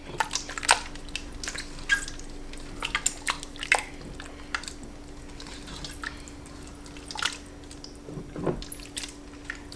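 Home-canned, rinsed beans being stirred into a pot of chili, giving soft wet squishing and scraping strokes in an irregular rhythm over a steady low hum, close and fairly quiet with no talking.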